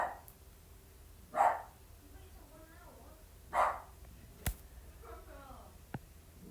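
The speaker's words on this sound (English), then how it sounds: "if you guys do ever hear my dog barking in the background" A pet dog barks a few times in the background, short sharp yaps spaced apart at moderate distance, with faint whimpering and clicks between them in a quiet room.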